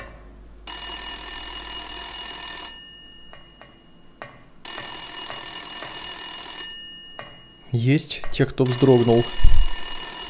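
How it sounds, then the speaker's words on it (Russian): A disconnected, broken telephone rings in a school in the Silent Hill video game, two long shrill electronic bursts with a pause between, followed by a voice speaking. "Звонит неработающий телефон."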